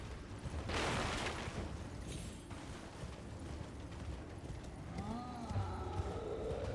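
A horse gallops in the open-world video game Elden Ring, its hooves beating in a quick, continuous clatter that swells at first and then runs on under other game effects, with a rising tonal sound near the end.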